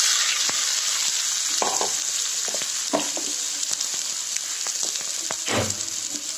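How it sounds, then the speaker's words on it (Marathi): Gram flour roasting in a pan for paneer bhurji with onions and tomato, producing a loud, steady sizzle broken by several scraping stir strokes, with no voices. "बेसन भाजते."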